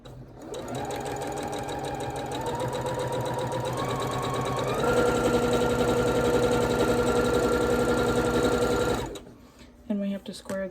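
A sewing machine stitches quilt block seams in one long, steady mechanical run, with a rising pitch partway through, then stops abruptly followed by faint clicks and handling sounds.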